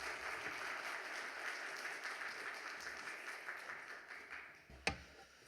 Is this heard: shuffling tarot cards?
no